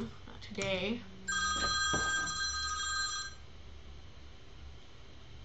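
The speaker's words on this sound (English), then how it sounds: "Sorry about that, that's my alarm." A phone alarm rings in a home recording setup, bursts of bright repeating electronic tones for about two seconds, heard after a short spoken phrase and fading to room noise.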